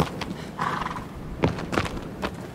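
A horse neighs and whinnies in the video game Shadow of the Colossus, with several short, bright calls spread over a few seconds above a low background hum.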